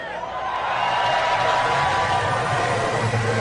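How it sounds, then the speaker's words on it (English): IndyCar race car engines firing up and idling at the start of the 2011 IZOD IndyCar World Championship, a loud, dense, steady roar of many engines close by that swells slightly after the first half second and holds. "start your engines."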